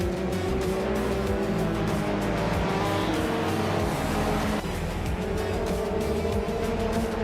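A 2012 Lada Granta races in a video game, its engine droning steadily and loud throughout, with a continuous layered roar of other cars close by and no pauses.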